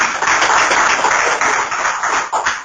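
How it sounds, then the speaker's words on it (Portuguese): A church congregation claps to glorify the Lord during a Portuguese-language sermon about the commandment against killing: dense, steady hand clapping close by, sustained and loud for a few seconds with no speech over it. "Podemos bater palmas e glorificar o Senhor Jesus"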